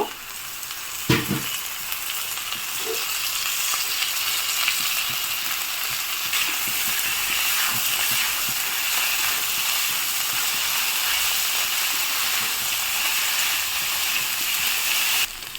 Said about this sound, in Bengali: মোচাটা দিয়ে আবার ভালো করে ভাজা ভাজা করে কষিয়ে নেব